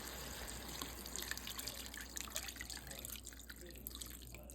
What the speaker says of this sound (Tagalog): Pwede ko na pong ilagay ang tubig po.